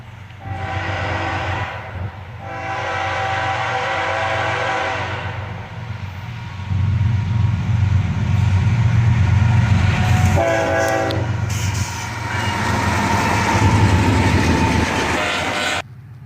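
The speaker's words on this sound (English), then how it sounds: "Four locomotives with a road slug trailer." A loud freight train led by four locomotives and a road slug thunders close past, with long repeated horn blasts over heavy engine rumble and wheel clatter.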